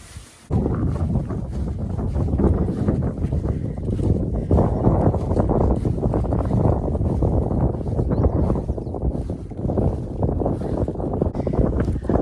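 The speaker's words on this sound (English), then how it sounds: "This wind gusts are crazy." Strong, gusting wind roars and buffets the microphone on an exposed Appalachian Trail mountain path, loud and continuous with surging bursts.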